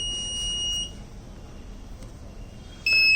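A buzzer on a battery pack protection circuit sounds a steady electronic tone for about a second, falls quiet, then starts again loud at the end, warning of over voltage or over current.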